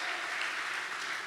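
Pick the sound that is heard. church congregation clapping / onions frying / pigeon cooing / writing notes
church congregation clapping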